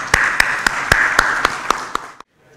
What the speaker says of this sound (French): On applaudit les panélistes et les invités en attendant les ministres